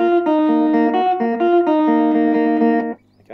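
The fifth bar of a neo rockabilly electric guitar solo: a fast run of clean, bright single notes picked in a quick rhythmic phrase, up close and alone, ending in a brief hush.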